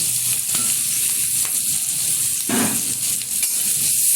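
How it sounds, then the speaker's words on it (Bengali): Chopped onions and green chillies fry in hot oil for a red spinach dish, a close, continuous sizzle broken by the scrape and clatter of stirring. "এবার একটু ভেজে নেব নেড়ে চেড়ে।"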